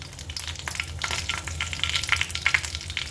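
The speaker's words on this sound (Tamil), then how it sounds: "எண்ணெய் சூட வச்சு கடுகு, ஒரு 3 வரமிளகாய்" Mustard seeds and three dried red chillies frying in hot oil for amla rasam, a close crackling sizzle with rapid pops and spits from the seeds over a low steady hiss.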